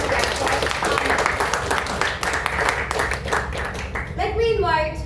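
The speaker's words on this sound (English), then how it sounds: "Let's have a big round of applause once again for Anand." An audience at a Toastmasters-style panel event claps loudly and steadily, then the applause fades as a voice starts speaking.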